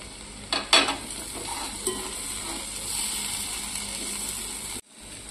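Okra and potato pieces stirred in a pan, a few close scraping clatters up front followed by a soft, steady frying sizzle that cuts off abruptly near the end.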